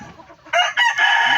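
A rooster crows loudly and close by in a chicken-raising yard, preceded by faint clucking from the hens.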